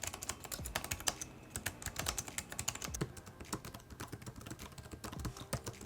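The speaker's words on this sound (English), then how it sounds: "the mechanical keys on the X17 offer better travel distance, are more comfortable to type on" Fingers typing on the mechanical keyboard of an Alienware X17 laptop, rapid clicky keystrokes in an uneven steady rhythm, close and fairly quiet, with no talking.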